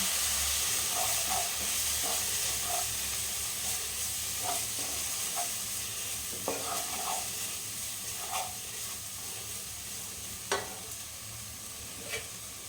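Spice paste with tomato paste and Kashmiri chilli powder frying for an egg dish, giving a steady close sizzle and hiss with scattered spoon clicks and stirring scrapes, slowly quieting.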